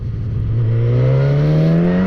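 Suzuki GSX-S1000 motorcycle engine pulling hard under acceleration on a test ride, a loud, close, continuous roar whose pitch climbs steadily through the gear.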